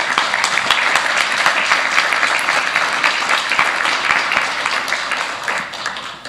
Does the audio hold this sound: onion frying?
no